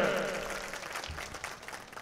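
A crowd at a BJP election nomination rally in Churu claps and cheers, with a brief swell of applause mixed with crowd noise and a voice heard over it.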